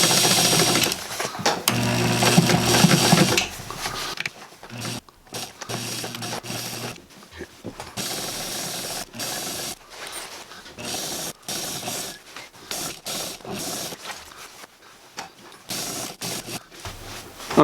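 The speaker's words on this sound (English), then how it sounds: "we're just going to sew around it" A home sewing machine stitches around dog coat fabric with a steady, fast mechanical whirring and clatter. The sound pauses and restarts a few times, and it is close and fairly loud with no talk.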